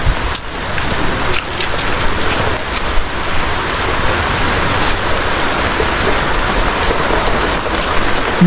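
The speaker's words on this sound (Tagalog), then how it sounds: "agos ulan" Heavy rain pours steadily, a loud dense wash of drops drumming on surfaces close by, unbroken throughout.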